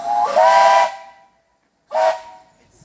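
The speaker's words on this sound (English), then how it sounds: "This is the whistle." A steam train's whistle at a heritage railway gives two loud, harmonic blasts, the first about a second long and the second shorter after a brief pause, close by with no talking.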